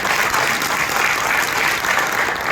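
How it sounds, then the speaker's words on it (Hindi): A training audience at the Hotel Sayaji bursts into loud, vigorous clapping, a thick wall of many hands beating steadily from start to finish. "जोरदार तालियां आपकी ट्रेनिंग के लिए।"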